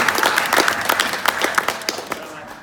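Wedding guests clap in a lively burst of applause that rises quickly, then thins and tapers off over a couple of seconds, with scattered individual claps near the end.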